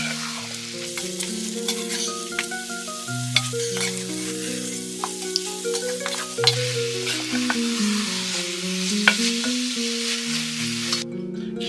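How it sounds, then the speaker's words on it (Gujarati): Chicken keema with red chili powder, turmeric and coriander-cumin powder sizzles in a pan while a spoon scrapes and stirs it in steady strokes, close and alone with no voices. "બધાને સરસ ફેરવી દઈએ।"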